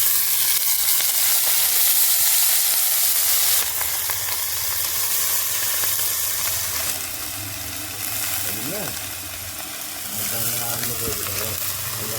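Chopped onion and mixed vegetables sizzle steadily in hot oil for a curry with jackfruit and shrimp, a dense continuous frying hiss with occasional stirring clatter and faint voices in the background.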